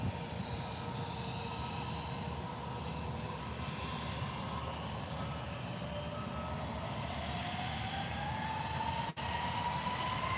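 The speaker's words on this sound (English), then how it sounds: "Okay, so we now have the Eurowings A319 to, I think, Hamburg." A Eurowings Airbus A319 departs Faro airport, its jet engines producing a steady broad roar with a slowly rising whine, heard at a distance and continuous throughout.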